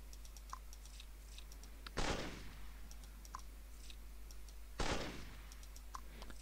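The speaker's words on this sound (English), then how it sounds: "we need to shoot all of these decoys with just one single shot" Two sharp single gunshots fired at decoys in the puzzle game Trapmaker 3, loud and spaced a few seconds apart, over faint ticking clicks and a low steady hum.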